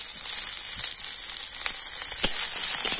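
Chopped onion, garlic and green chilli sizzle steadily in a hot pan, a continuous bright frying hiss with scattered small pops and crackles, close and alone without voices.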